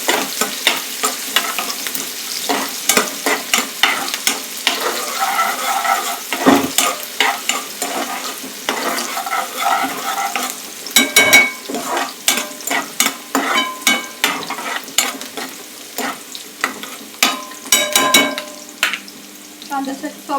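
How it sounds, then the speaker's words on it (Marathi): Onions fry in a pan while a spoon repeatedly stirs and scrapes them, producing a steady sizzle broken by sharp, irregular metallic clinks, close and fairly loud throughout. "कांद्यासाठी सॉफ्ट होईपर्यंत भाजायचं, ब्राऊन करायची काय गरज नाही."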